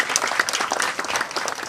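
A brief burst of audience applause at a Balinese Calonarang performance, many hands clapping in a lively, uneven patter at close range, with no speech over it.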